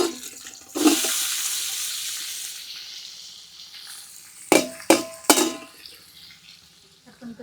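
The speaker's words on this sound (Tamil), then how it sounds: "அடுத்து வெங்காயத்தை கொட்டுவோம்." Onions are poured into a hot pot and sautéed for mutton biryani: a rushing sizzle bursts up when they hit the oil and fades, followed by three sharp clanks of a utensil against the pot.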